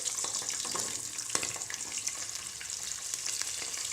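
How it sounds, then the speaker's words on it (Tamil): Cumin and a whole onion go into hot oil where mustard seeds have already popped, for a leftover-rice dish. A soft, steady sizzle runs with faint crackles and light clicks, fairly quiet throughout. "கடுகு பொரிஞ்சது கொஞ்சம் ஜீரகம், வெங்காயம் முழுசாகவே போடுறேன்."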